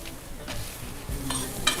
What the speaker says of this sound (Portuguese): Importante sempre a gente ter o chiadinho da panela, né?